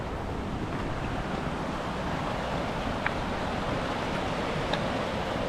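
Creek water in the Oneonta Gorge flows in a constant broadband rush, a steady moderate wash with no breaks and occasional faint ticks, and no one speaking.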